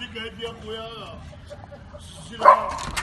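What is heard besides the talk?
dog barking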